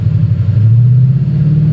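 A 2016 Ford Mustang GT with Kooks longtube headers and an MBRP Race catback exhaust rumbles steadily with a low, throaty exhaust note, close and loud, holding a fairly even idle-to-light rev with no talking.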